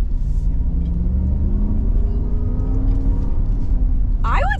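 A 2022 Jeep Wagoneer V8 accelerates from inside the cabin, with a steady, loud low engine rumble and a rising drone as it picks up speed. A voice speaks briefly near the end.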